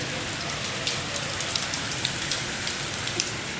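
Steady rain falls outdoors, a constant close hiss of drops on a hard floor with a few sharper individual splashes, no voices.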